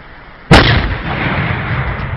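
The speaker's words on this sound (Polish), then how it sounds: "dzisiaj to był wybuch" A single sharp, powerful blast erupts after a brief quiet, followed by a long rumbling roar that slowly settles.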